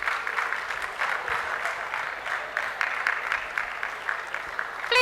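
An audience at a tech conference panel applauds a panelist, a steady wash of many hands clapping at moderate distance, sustained throughout with faint voices underneath.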